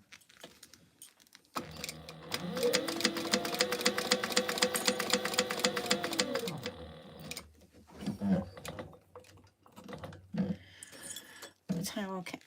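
Sewing machine top stitching a cargo belt bag, running in a fast steady rhythmic whir for several seconds before stopping, followed by handling clicks and rustles of fabric and parts.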